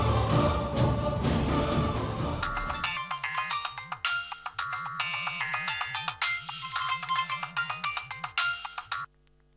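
A phone ringtone plays a repeating electronic melody for several seconds, loud and clear, after a brief burst of other sound at the start, with no talking over it.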